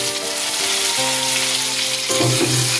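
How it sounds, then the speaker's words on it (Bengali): Chopped tomato frying together with potatoes gives a dense, close sizzle that holds steady for a few seconds, with a faint shift as the pan is stirred near the end, under light background music. "টমেটোটা আলুর সাথে ভেজে নিচ্ছি।"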